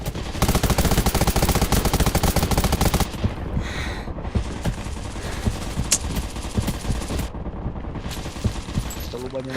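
Heavy, continuous automatic gunfire in the Undawn shooter game, loud and dense at first, then continuing as scattered bursts and single shots over game ambience.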